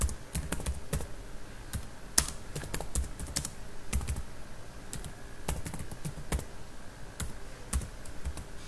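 Code being typed on a computer keyboard, with irregular runs of sharp, close key clicks and occasional heavier keystrokes, no voices.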